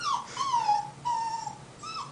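A female dog whimpers and whines in three drawn-out, high-pitched cries with short pauses between, close and clear with no talking over them.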